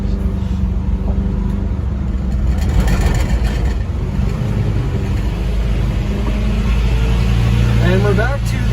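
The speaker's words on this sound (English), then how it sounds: "It's a great sound for a 72 bus." A 1972 VW Westfalia bus engine runs close by with a steady low rumble and some throttle swells, while people talk over it.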